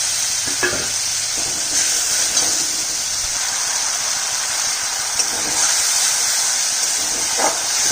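Spice paste of ground black cumin and turmeric, loosened with water used to rinse prawns and spices, sizzles and bubbles steadily in a pan for fish curry, a continuous close hiss with occasional stirring clicks and no talk.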